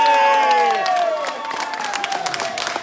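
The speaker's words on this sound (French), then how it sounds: "on applaudit très fort" A crowd at a retirement home pageant applauds and cheers steadily, dense clapping under sustained tones and a few voices, fading slightly toward the end.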